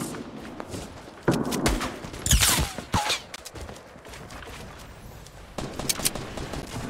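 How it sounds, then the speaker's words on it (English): Scattered gunshots and bursts of automatic fire crack from different directions in the Fortnite battle, some sharp and close, others quieter, with footsteps and thuds between volleys. "We're getting shot at from our right and left, I think."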